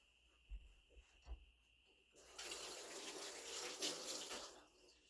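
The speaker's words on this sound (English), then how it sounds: "Wash my hands." A kitchen tap is turned on for handwashing partway through cooking and gushes in a steady, close rush of water after a few faint knocks.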